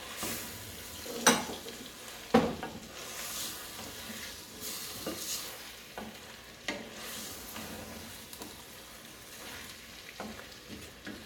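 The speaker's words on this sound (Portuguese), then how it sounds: "nós vamos mexer de forma suave, para ela permanecer com os pedaços" A spoon gently stirs a Cuscuz Paulista mixture in a pan, with soft scraping strokes and occasional sharper knocks over a steady low sizzle, continuing unhurried without talk.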